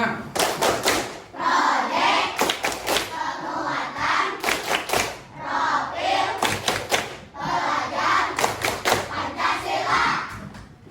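Classroom children perform the P5 clapping chant, groups of sharp hand claps and thumps in bursts alternating with loud chanted voices, repeating in cycles close and energetic.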